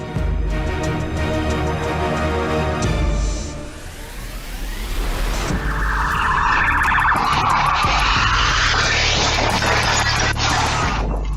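Loud road-crash footage of a truck that lost its brakes slamming into traffic: a sustained, noisy roar with a sweeping skid-like shift midway, then harsh high-pitched scraping or alarm tones continuing to the end, no speech.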